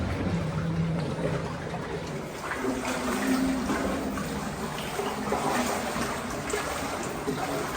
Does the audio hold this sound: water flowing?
yes